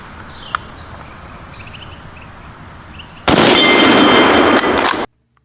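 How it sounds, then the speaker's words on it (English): A German Mauser rifle fires in one loud, close blast that rings out for about two seconds before cutting off abruptly, following a quiet stretch of faint background noise. "Let's load this German Mauser and shoot it."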